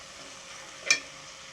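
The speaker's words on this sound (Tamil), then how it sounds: "நம்ம இப்போ இதில் எண்ணெய் ஊற்றி பெருஞ்சீரகம் போட்டு தாளிச்சிட்டு பச்சை மிளகா போட்டு வதக்கணும்" Fennel seeds and green chili frying in hot oil give a soft, steady sizzle with one brief louder crackle, close and quiet, without talk.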